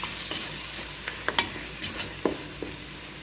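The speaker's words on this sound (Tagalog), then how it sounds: "Halo-haloin lang" Tomatoes and vegetables for a potato, eggplant and chana dal dish stirred in a frying pan, with a soft steady sizzle under a handful of sharp spoon scrapes and clinks against the pan, close by.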